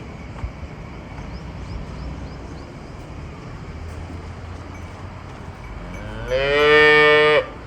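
Jersey cow on a Punjabi village farm giving one loud, close, drawn-out moo near the end after a quiet stretch of outdoor ambience.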